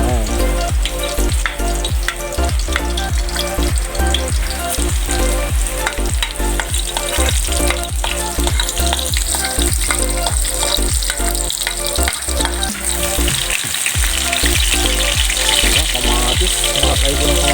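Garlic frying in a pan for a home-style dish, a steady dense sizzle with stirring clatter and scrapes running through, close and fairly loud, with no pause in the crackle.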